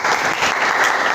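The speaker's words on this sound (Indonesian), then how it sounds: "Saya beri tepuk tangan dulu." Classroom applause for a student group, a short burst of dense, steady clapping from a room full of people.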